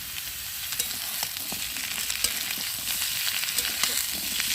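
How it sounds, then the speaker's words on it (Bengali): Potato and papaya pieces fry in oil in a pan for a Bengali fish curry, giving a steady close sizzle with scattered crackles and stirring scrapes and no talk. "আলু পেঁপেটা একটু ভালো করে কষিয়ে নেবে"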